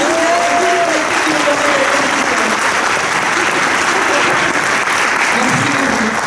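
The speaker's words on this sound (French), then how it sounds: "je vais vous demander un tonnerre d'applaudissements" Loud, dense audience applause fills a hall at an evening community event on communication and living together, a continuous roar of many hands with faint voices and a few calls mixed in.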